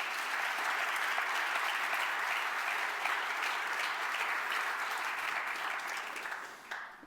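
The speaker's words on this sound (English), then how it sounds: "Please once again give them a big round of applause" Sustained applause from a conference audience celebrating eight newly selected health startup grant winners, steady dense clapping throughout that thins and fades toward the end, with no talk over it.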